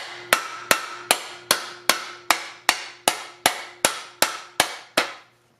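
A hammer strikes an Energy Suspension trailing arm bushing into the trailing arm of a Honda Civic wagon. Thirteen sharp, evenly spaced blows ring out at a steady rhythm, each with a short metallic decay.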